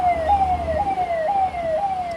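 An ambulance siren wails in a steady repeating rising-and-falling cycle, loud and close, with low traffic rumble underneath and no voices.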